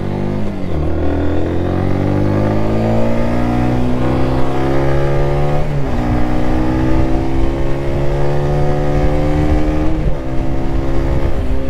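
A 2024 Zontes 125 C small custom motorcycle accelerating hard, its engine note rising steadily through several gears with brief dips at each shift, loud and close.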